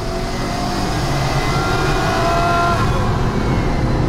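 Hyundai Solaris 1.6, VAZ 2113 1.7 and Lada Granta Sport race from 60 km/h with gears shifted manually, making a loud steady roar of engines and road noise heard from close range.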